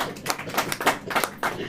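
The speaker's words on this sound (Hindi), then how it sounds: "ताली बजाइए।" Congregation at a church service clapping together, a dense steady patter of many hands, close and lively, with no talking.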